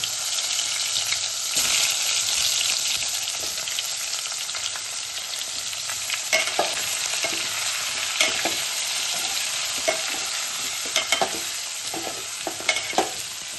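Brinjal pieces sizzle steadily in hot oil seasoned with asafoetida, a dense continuous frying hiss broken by scattered sharp clicks and scrapes of a spoon stirring the pan, close and fairly loud throughout.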